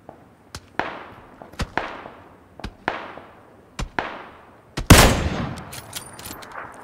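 Enemy gunfire in the shooter game PUBG: about eight sharp, separate shots crack out at a steady, unhurried pace, then one louder, closer blast rings on at the end, with no talking.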